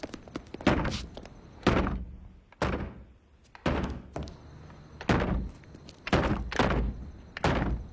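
A door is pounded with heavy, repeated thuds, about a dozen booming blows in uneven bursts that include hard slams, close and loud with no talk over them.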